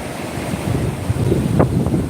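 Ocean waves wash onto a beach under steady wind rumble, a continuous loud surf wash with a few brief swells of breaking water.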